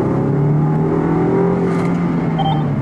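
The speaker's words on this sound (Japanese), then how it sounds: "2リッターターボでこの巨体だったらこの加速十分じゃないですか" A Land Rover Defender 110 with a 2-litre turbo engine accelerates uphill. A steady engine drone with a rising tone holds for about three seconds, heard from inside the vehicle, with no voices.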